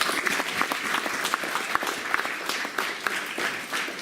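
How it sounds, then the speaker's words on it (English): Audience applause for the parents at a 2018 FHAA football awards event, many hands clapping in a lively, uneven patter that runs steadily without talk. "big round of applause for the parents"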